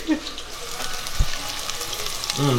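Ingredients dropped into a hot frying pan, hissing and sizzling steadily throughout, with a thump partway through and a brief clatter near the end.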